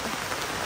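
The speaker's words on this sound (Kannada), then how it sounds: "ಇವತ್ತು ಬೆಳಿಗ್ಗಿಂದಲೇ ಮಳೆ ಇರುವುದರಿಂದ ಬಾರಿ ಬೊಳ್ಳೆ ಎಲ್ಲ ಹೋಗ್ತಾ ಉಂಟು" Steady rain falls on a rural road leading to a house after a morning of continuous rain, a dense, even hiss of drops close by with no talking.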